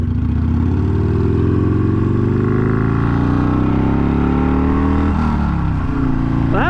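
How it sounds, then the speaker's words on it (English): A Harley-Davidson Sportster Iron 883 rides through traffic, its loud, close engine droning and rising in pitch, with a brief irregular knock in the middle before the revs climb again. "Well, that was some piston slap."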